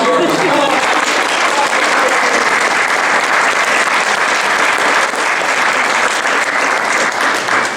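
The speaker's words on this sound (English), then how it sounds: "Ladies and gentlemen, another round of applause for her." Sustained audience applause fills a hall during a National Society of Leadership and Success induction at Thiel College, steady and full clapping from a large crowd that carries on throughout without dying down.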